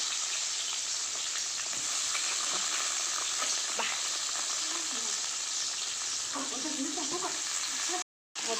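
Chillies fry in oil with a dense, continuous sizzle that holds at an even, close level, with faint stirring sounds and a brief dropout near the end.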